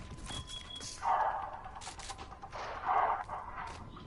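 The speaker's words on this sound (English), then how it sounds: "Oh, gunfire, gunfire, gunfire." Two short bursts of distant gunfire crackle a couple of seconds apart in Fortnite, over a quiet background of faint game ambience.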